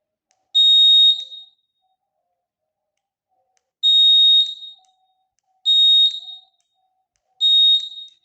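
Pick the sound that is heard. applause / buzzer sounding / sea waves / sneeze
buzzer sounding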